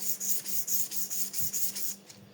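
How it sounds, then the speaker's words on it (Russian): A knife blade is polished with sandpaper in quick rhythmic back-and-forth rubbing strokes, about ten close scratchy passes in a row, with no voices. "Вот сейчас вот я занимаюсь, например, полировкой клинка данного."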